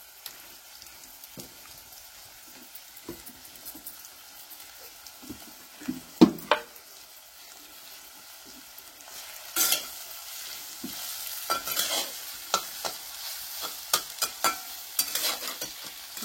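Onion and green chillies frying in a pan for red amaranth bhaji, a soft steady sizzle broken by sharp scraping knocks of a spoon stirring, growing busier toward the end, no talking.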